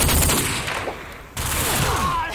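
Gunfire in Call of Duty 4 during a paintball-style multiplayer match: dense, continuous bursts of shots with a brief dip midway, heard alone without talk.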